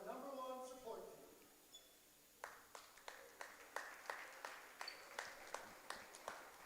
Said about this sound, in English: One last round of applause for our number 1 support team